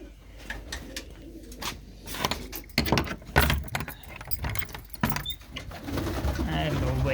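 Pigeons in a loft flutter, shuffle and coo close by amid clattering knocks and jangling sounds, with a voice in the background.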